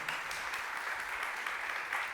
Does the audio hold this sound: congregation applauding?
yes